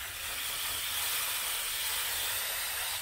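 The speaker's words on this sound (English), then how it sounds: "so we're gonna go ahead and rinse our brush" Water rinsing a cleaning brush during rust removal with aluminum brightener, a steady, even hiss of running spray that holds constant from start to finish.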